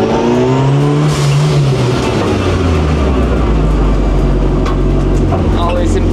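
A car engine drones and revs loudly up close, its pitch rising and falling, with a voice speaking over the noise.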